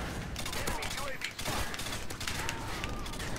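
Rapid bursts of gunfire in the video game Modern Warfare 2, crackling continuously through a busy, fairly quiet game mix with faint voices.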